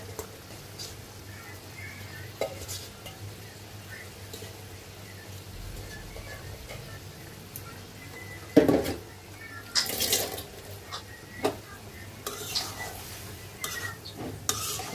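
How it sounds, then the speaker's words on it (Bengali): Snakehead fish pieces are dropped into a pan of masala and gently stirred, giving faint sizzling under intermittent scraping, clinks of utensil against the pan, and a few louder knocks. "এখন মাছগুলো দিয়ে ভালো করে কষাবো"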